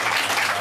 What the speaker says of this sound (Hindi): अब इनके लिए ताली बजाओ जोर से।